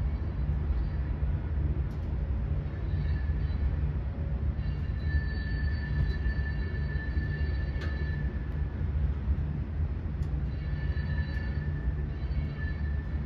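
A CSX freight train rolls past in North Carolina with a steady low rumble of wagons, rattling wheels and faint high wheel squeal recurring throughout, loud and continuous.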